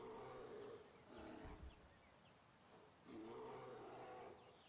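A bear in a cave in the video game Skyrim gives deep, drawn-out roars, two long growling bursts separated by a quieter stretch, sounding fairly close with no speech over them.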